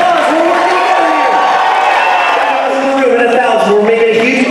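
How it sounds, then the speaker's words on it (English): An auction crowd cheers, whoops and applauds loudly and continuously, with voices shouting through the noise. "That's a huge round of applause."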